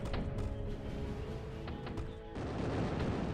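Rockets and gunfire in the strategy game Zero-K, a busy mix of rapid shots, launches and blasts with a mechanical hum beneath, steady and moderately loud, no voices.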